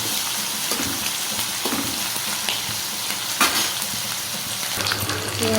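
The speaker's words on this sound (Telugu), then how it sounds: "కొద్దిగా వేగిన తర్వాత ఉల్లిపాయలు వేయాలి." Pieces for a dry fish and cucumber curry fry in a pan with a steady close sizzle, punctuated by occasional stirring scrapes and a faint watery splash.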